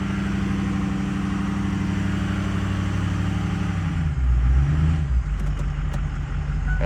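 A Ford 6.0 diesel truck engine held floored in drive, a steady loud low drone and rumble that deepens and swells after a few seconds before settling again, with no talking.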